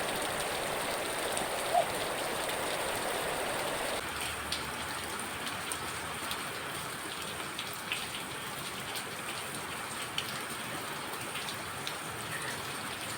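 Steady rain pours down in a continuous broadband hiss, with scattered drops pattering on surfaces throughout; no voices.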